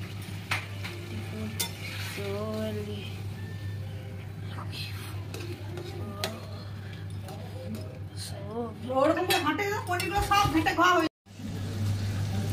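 Paneer added to masala and fried in a pan with a steady sizzle and frequent stirring, a low hum running underneath and someone talking over much of it, ending with louder clattering.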